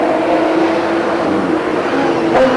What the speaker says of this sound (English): So, Chaz Farrer, 67, beginning to pull clear down the far side in this strange-looking car